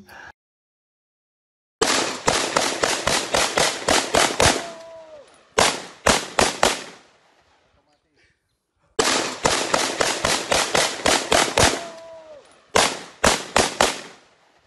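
Two bursts of rapid rifle gunfire at a shooting range, each a fast string of loud, sharp cracks followed by a few spaced shots, separated by silence, close and forceful with no talking.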